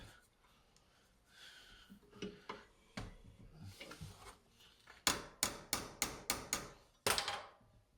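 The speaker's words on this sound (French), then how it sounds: "j'ai pris une tôle la plus fine possible pour que ce pli là, que je suis en train de faire là" Thin sheet metal tab being folded and tapped on a 1956 Volkswagen Cabriolet, scattered soft knocks early on, then a run of six sharp, close metallic hammer blows in a quick regular rhythm.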